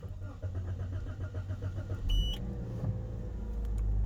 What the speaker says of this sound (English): as you come inside and start the engine,